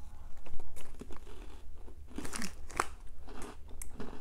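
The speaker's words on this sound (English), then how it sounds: "Let me eat this cookie." Close, loud crunching as a cookie is bitten and chewed, several sharp crisp bites followed by rhythmic crackly mastication, with no talking.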